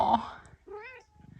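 A Ragdoll mother cat with a new litter of kittens lets out one short, rising-and-falling meow, close by, after a brief soft rustle.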